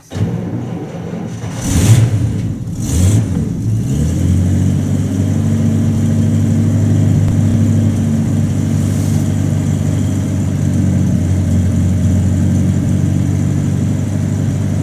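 A Buick Roadmaster's engine settles into a steady idle on a cold day after a brief rev near the start, running as a continuous low rumble close by with no talking.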